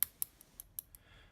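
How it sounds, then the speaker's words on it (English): A metal clip on a Diplomat Aero fountain pen in Sunset Orange clicks six times: light, sharp, evenly spaced clicks close up, faint and alone in a quiet room. "Not that you sit there sort of playing with the clip of your pen often, but it is a noise you can hear"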